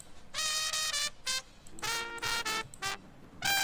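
Right-side horns isolated from a song's mix, punching out short bright brass stabs and held notes in a choppy rhythm, loud and dry with brief gaps between phrases.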